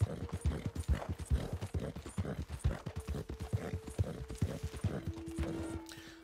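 Horse hooves clip-clopping in Red Dead Redemption 2, a steady rhythmic trot of distinct close thuds over faint rain and ambient tones, with no talk.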